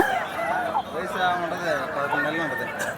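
Rooster sounds at a busy poultry market in Nallapadu, an eleven-month-old cockerel about three kilograms, with calls and clucking mixed under continuous nearby talk.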